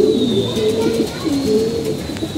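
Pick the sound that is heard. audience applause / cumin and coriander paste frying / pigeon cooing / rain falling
pigeon cooing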